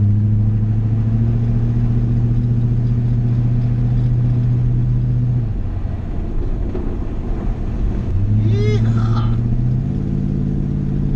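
A Ford F-250 three-quarter-ton pickup with a big-block engine drives on a slick road, its loud low drone holding steady, dipping mid-way, then climbing again as it accelerates, with a brief squeal near the end.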